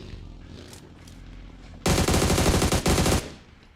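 Automatic gunfire in a video game, fired from a moving vehicle on the road: a loud, dense burst of rapid shots lasting over a second, with a brief break before it resumes, over quiet game background.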